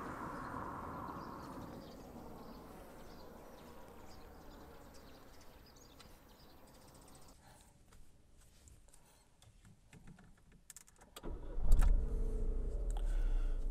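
Power windows of a 2021 Renault Clio Joy 1.0 petrol automatic worked by their buttons: a faint steady electric motor whir inside the car, ending in a louder thump as the glass stops.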